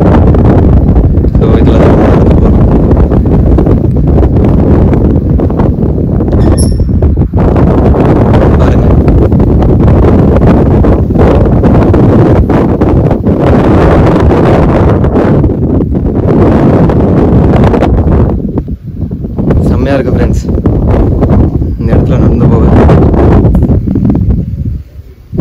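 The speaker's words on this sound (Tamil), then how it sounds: "நேச்சுரல் காத்து வரியா" Strong natural wind blowing over a hilltop on the Puligundu Hills, roaring and buffeting the microphone loudly and continuously, with people talking under the gusts.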